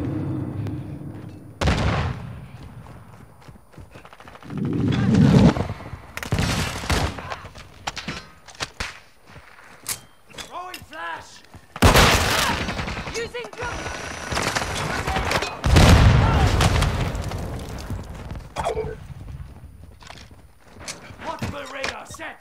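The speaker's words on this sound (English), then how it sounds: "I'm gonna use my sniper." Sniper rifle shots and explosions in the video game Call of Duty MW2 (2022) multiplayer, with several loud broadband bursts spread through the stretch alongside game noise and talk.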